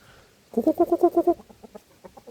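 A fighting rooster crows close by, a loud rhythmic series of about seven sharp pulses, then trailing off into softer, uneven clucking.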